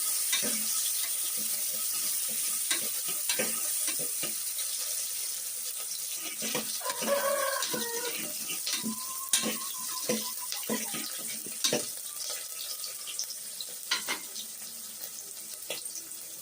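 Onions sizzle steadily in hot oil for a country-chicken gongura curry, with a continuous hiss broken by frequent clinks and scrapes of stirring, with no talk.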